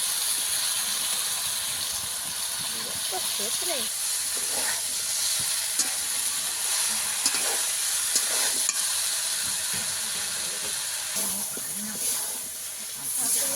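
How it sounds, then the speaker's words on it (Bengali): Potatoes and previously fried vegetables sautéing together in a pan with green chillies, giving a steady sizzle and hiss with repeated stirring scrapes throughout, faint speech-like sounds underneath. "সমস্ত সবজি আমি একসঙ্গে আরেকটু কষিয়ে নেব।"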